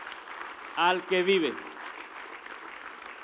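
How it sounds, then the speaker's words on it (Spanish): Church congregation clapping, a soft, steady patter of hands heard throughout while someone speaks briefly over it. "Denle ese aplauso fuerte al Señor, denle la gloria"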